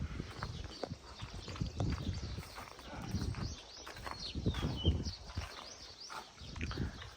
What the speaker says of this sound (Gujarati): જોઈ રહ્યા છો આપણા બધા હોર્સ બાંધ્યા છે